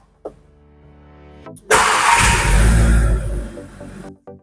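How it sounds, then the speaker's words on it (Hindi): A 2025 Skoda Kushaq's engine cranks briefly and catches with a loud close roar, then settles into a steady idle that fades off after a couple of seconds. "चलिए अब कार स्टार्ट करते हैं।"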